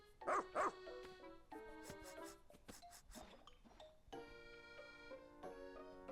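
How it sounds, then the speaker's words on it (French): A cartoon dog in the video game Pikmin 4 gives two quick yips near the start, then the bright, tinkling game music carries on alone. "Allez ma chienne, cherche une pièce."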